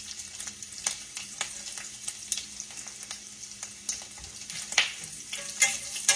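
Bacon frying in a pan sizzles and pops steadily, with sharp crackles and spits scattered over a continuous hiss, fairly close and with no talk.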